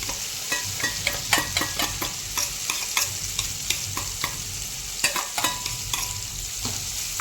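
Tadka tempering sizzles steadily in a pan while a spoon clicks and scrapes against the metal in irregular taps, close and fairly loud, with no one speaking.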